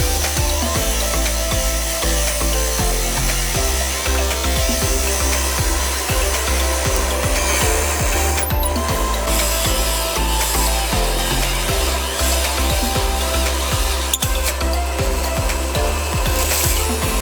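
Continuous loud grinding and scraping as a turning tool shapes a hundred-year-old log spinning on a wood lathe, a steady abrasive roar with rhythmic low pulsing from the rotation, close up and uninterrupted.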